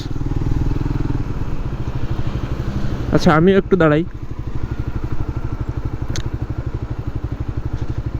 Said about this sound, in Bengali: বাইক নিয়ে সিরিয়ালে সবাই দাঁড়ায় আছে